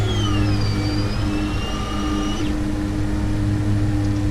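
Twin engines of a Tecnam P2006T climbing out after takeoff in Flight Simulator X, a loud steady drone with a rising, shifting whine that settles into an even hum, no voices.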